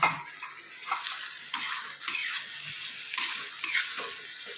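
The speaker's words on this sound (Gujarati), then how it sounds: "આપણે પૌવા અંદર નાખી દઈએ." Soaked poha tipped into a hot pan and stirred, giving a steady sizzle with repeated scraping strokes and soft clatters of the spoon against the pan, close and moderately loud with no talking.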